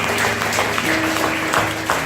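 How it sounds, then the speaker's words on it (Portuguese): A church congregation applauds together during a family worship service, a dense, steady wash of many hands clapping at moderate distance with faint voices mixed in. "Está bravo esse aplauso aí."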